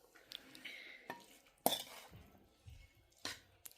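A spoon clinks against a dish in a few separate, quiet, close taps and scrapes, with soft stirring and handling noises between them.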